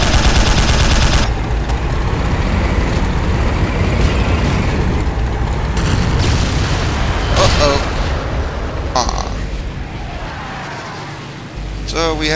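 Video game battle with an anti-tank shell striking a tank: a loud, continuous roar of explosions and gunfire-like blasts with a heavy engine rumble throughout and sharp impact bursts near the end.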